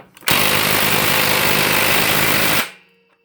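A cordless Milwaukee M18 or Ridgid 18V impact wrench drives a lag bolt in one continuous, loud, close hammering burst of about two and a half seconds, then stops abruptly.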